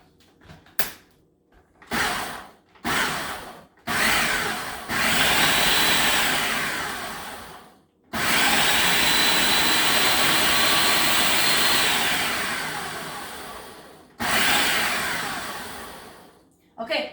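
A kitchen blender whirs loudly through homemade CLIF bar ingredients in several bursts, stopping and restarting with short pauses between long, steady roaring runs.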